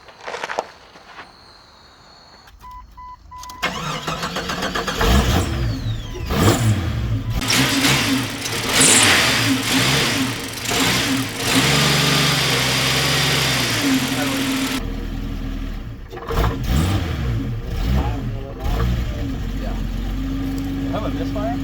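A car engine cranks briefly and catches, then runs and revs unevenly with a rough, shuddering idle, close by, with people talking over it and footsteps around.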